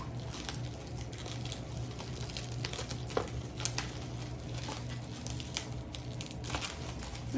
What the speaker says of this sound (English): Just cut through it with scissors